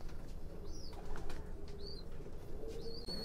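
Pigeons flap their wings nearby in several brief fluttering bursts over a quiet, faintly noisy background, with no talk.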